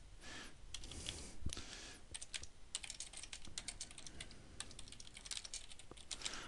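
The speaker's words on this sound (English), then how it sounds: "And then we can type it." Comment being typed on a computer keyboard, a continuous run of crisp, close key clicks in an uneven rhythm with brief pauses and a louder final tap.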